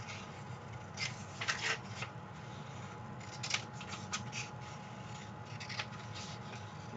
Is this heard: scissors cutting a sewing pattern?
yes